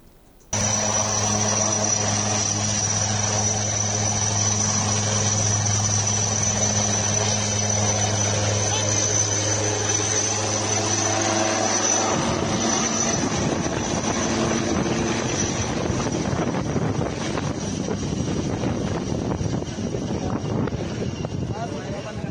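A military helicopter on a training flight gives off a loud, steady engine whine and rotor drone that holds throughout, while someone speaks over it in a news-report style.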